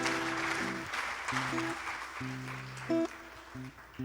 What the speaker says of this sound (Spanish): Y dale el aplauso más fuerte porque es para el Rey de Reyes y Señor de Señores